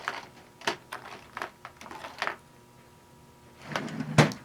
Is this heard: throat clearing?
no